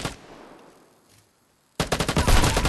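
Grenade blast in a first-person shooter game: a faint fading rumble falls to silence, then a loud burst of dense, rapid bangs cuts in and continues to the end.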